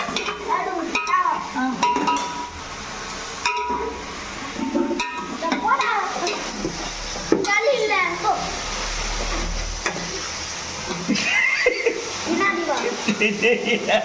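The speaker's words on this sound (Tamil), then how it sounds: "அப்புறம் நல்லா வதக்கணும். நல்லா வதக்கணும் எண்ணெயில." Vegetables sautéing in oil in a pot for biryani, with stirring scrapes and a soft sizzle under ongoing talk by several people, including a child, in a busy home kitchen.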